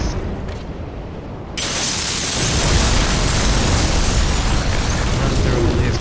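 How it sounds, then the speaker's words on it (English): A roaring explosion of dark spirits firing in Dark Souls III, a sudden loud blast that swells into a dense, sustained rumbling roar, following a quieter stretch at the start. "We're going to hear a weird roar explosion, which I think is them firing off their weird dark spirits."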